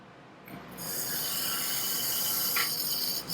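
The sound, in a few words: toilet being flushed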